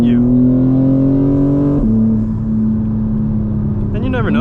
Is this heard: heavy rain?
no